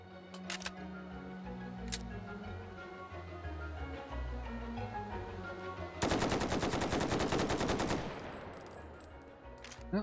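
Full-auto gunfire in the VR video game Hot Dogs, Horseshoes & Hand Grenades: a few sharp mechanical clicks and handling sounds, then a loud, rapid burst of shots lasting about two seconds before it tails off.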